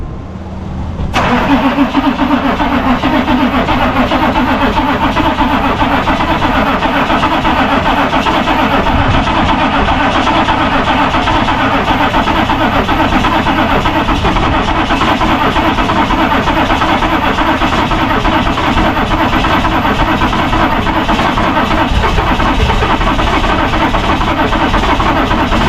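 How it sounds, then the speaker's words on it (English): A diesel truck engine in freezing weather, boosted by a jump pack, runs loud and steady after a brief cranking start, a continuous close rumble with no voices over it. "once that jump pack came on, it was like really cranking"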